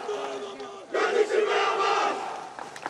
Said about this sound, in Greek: Εισπράττουν ένα πολύ ζεστό χειροκρότημα από τον κόσμο.